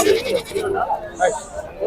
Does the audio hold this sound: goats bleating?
yes